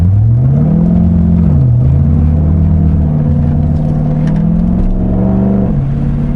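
A Chevrolet Corvette C6 Grand Sport V8 revs loudly from close by through its exhaust, the engine note climbing, dipping and climbing again in a sustained, throaty roar.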